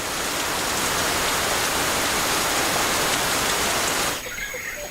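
Steady, dense rain pours down in the Nyungwe montane cloud forest, a constant close hiss filling the air without pause before easing slightly near the end.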